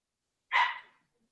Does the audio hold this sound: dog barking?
yes